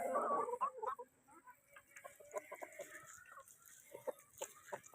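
Rhode Island Red, Brahma and native-breed chickens clucking beside a house, a loud burst of calls up close at first, then scattered softer clucks and chirps continuing at moderate distance.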